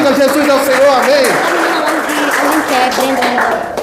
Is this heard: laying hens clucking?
no